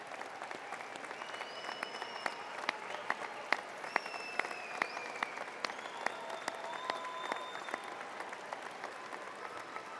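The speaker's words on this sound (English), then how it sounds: "graduates, let's give them a round of applause" Applause at an evening commencement ceremony honours the graduates' family members. Many people clap in a large hall for a long, steady stretch, with crowd murmur and occasional faint voices or whoops mixed in.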